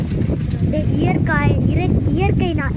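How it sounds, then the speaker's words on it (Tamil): Strong wind rumbles and buffets steadily in the low end while people talk over it throughout. "நல்லா காற்றடிக்குதுங்க"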